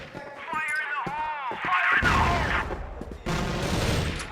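Rapid gunfire sprays through a wall in a competitive CrossFire match, dense bursts of loud shots that swell and pause, with a commentator talking over them.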